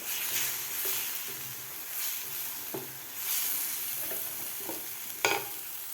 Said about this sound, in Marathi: आता एक मिनिटभर आपल्याला हे मसाले व्यवस्थित परतून घ्यायचे आहेत